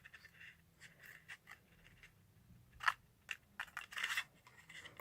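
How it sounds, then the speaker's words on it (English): Several crisp snipping cuts from scissors through paper card, with a quick burst of louder snips near the end, close up over a low background hum. "I'm cutting like a little triangle in here."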